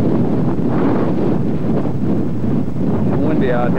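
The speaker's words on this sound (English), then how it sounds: "It's windy out here." Strong wind buffets a microphone outdoors near a harbour breakwater and military port on Terceira Island, a loud continuous rumbling roar with gusty swells throughout.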